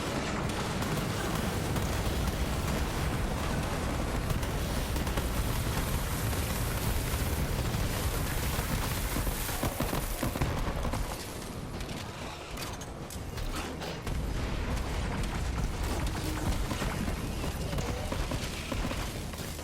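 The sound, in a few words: grenade explosions in the video game Borderlands 3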